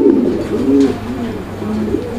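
Fancy pigeons coo in a low, throaty, repeated rolling call, close and fairly loud, with several soft phrases following one another and no talk over them.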